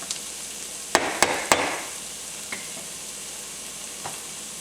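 Garlic and ranchero ingredients for spicy shrimp cook in a pan, a soft steady sizzle broken by three sharp utensil knocks early on and a couple of lighter taps later.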